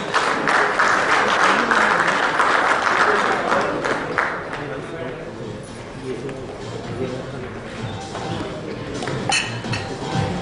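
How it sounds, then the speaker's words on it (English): Audience at the elets FIPS 2014 awards clapping for winners, loud dense applause at first that gradually thins and softens, with a few clinking sounds and background voices later. "We should continue the clap for the winners, please"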